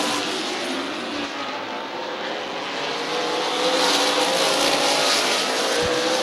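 Stock cars race on the Midvale track in the 2021 Super Cup Stock Car Series, their engines a loud, continuous roar that swells slightly as the pack passes.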